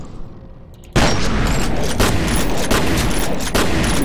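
Loud, dense bursts of gunfire from the video game F.E.A.R. erupt after a brief quieter lead-in, then keep going as sustained, rapid automatic fire with heavy booming impacts.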